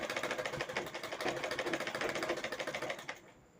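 A sewing machine stitches piping onto a lined blouse in a fast, even rattle of needle strokes, close and clear, stopping abruptly near the end.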